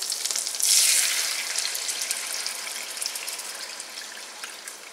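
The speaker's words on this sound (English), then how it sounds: "All right, the steaks are nicely browned, so now add the braising liquid." Braising liquid poured onto browned cube steaks in a hot pan, a loud bright hiss that bursts up at once and then slowly fades into a softer steady sizzle, close and with no voice.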